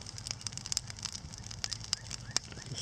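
A large fire burns with sharp, irregular crackles and pops over a low rumbling roar, moderately distant and without talking.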